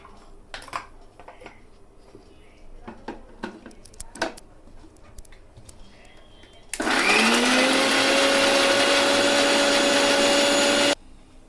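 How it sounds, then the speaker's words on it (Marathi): A few quiet knocks and clinks, then a mixer grinder roars to life, blending tomatoes into puree, whirring loudly and steadily for several seconds before stopping. "आपण हे मिक्सरमध्ये टाकू आणि ह्याचं पेस्ट बनवू"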